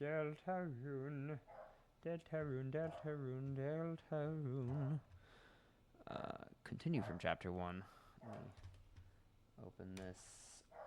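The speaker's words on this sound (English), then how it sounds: "dog is just going absolutely ham in the other room." A pet dog barks in another room, muffled and somewhat distant, under a person talking and computer keyboard typing.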